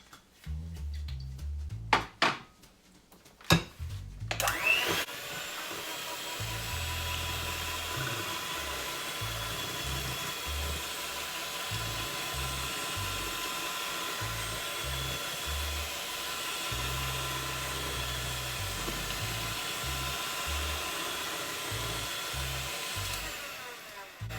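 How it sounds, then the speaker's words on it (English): An electric mixer beats Jamaican fruit cake batter, a steady whirring motor hum that runs for most of the clip after a few clattering knocks at the start. "We are done with the hand mixer or the stand mixer or whatever mixer you're using"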